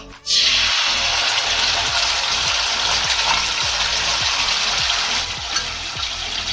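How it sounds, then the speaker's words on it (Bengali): Tomato sauce hits hot oil in a wok with a sudden loud sizzle that settles into continuous, close frying hiss, with faint rhythmic stirring scrapes underneath. "আমি কড়াইয়ে তেলটা গরম করে নিয়েছি। এবার আমি এতে দিয়ে দেব টমেটো সস"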